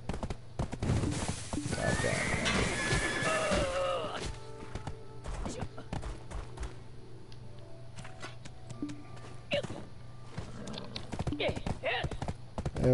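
Horse hooves clip-clopping in a video game, with a whinny and rapid hoof beats loud early on, then scattered hoof and impact sounds over a low hum while someone talks.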